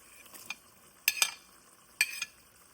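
A spoon stirs dondakaya (ivy gourd) masala curry gravy in a pan, giving three quick bursts of scraping and sizzling against a quiet background, close and clear.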